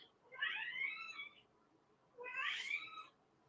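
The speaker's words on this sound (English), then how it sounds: "And there's another cat." A cat gives two drawn-out meows about two seconds apart, moderately close but fairly soft, with quiet in between.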